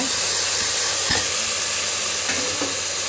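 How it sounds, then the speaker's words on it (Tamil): Tomatoes sautéing in hot oil in a pan for beetroot rice give a steady sizzling hiss with a few faint stirring scrapes, close and continuous with no talking. "இதையும் நல்லா வதக்கிடுவோம் தக்காளி நல்லா வெந்துருச்சு"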